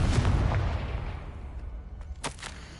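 Confringo blasting spell from Hogwarts Legacy erupts in a loud, deep explosion that rumbles and decays over a few seconds, with a couple of sharp crackling bursts near the end.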